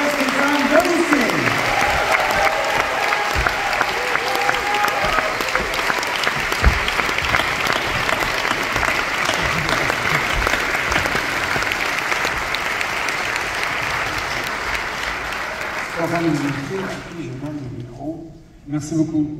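Dense, loud applause from a large audience at a Cannes Film Festival screening fills the hall steadily, then thins out near the end as a voice begins speaking.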